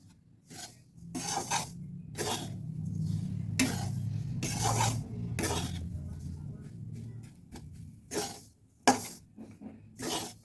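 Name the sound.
mixing sugar into grated carrot mixture in a bowl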